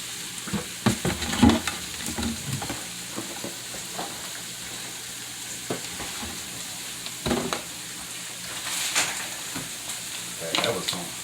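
Ground beef and vegetables fry in oil in a home kitchen, a low steady sizzle broken by intermittent stirring scrapes and clacks, with a few louder bumps near the start and end.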